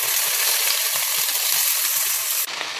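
Ivy gourd (kovakkai) fries in hot oil with mustard seeds and curry leaves, giving a loud, steady sizzling hiss with faint crackles, which drops away abruptly near the end.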